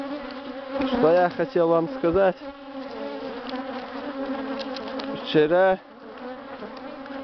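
An angry swarm of bees buzzes close and continuously, a steady droning hum, while someone talks over it in several loud bursts.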